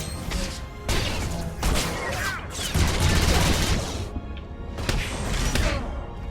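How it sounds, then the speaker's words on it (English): Blaster fire crackles in a firefight in Star Wars: The Old Republic, a loud dense barrage of rapid shots and impacts with brief pauses, continuing throughout at close range. "Bodar, shoot the one behind you."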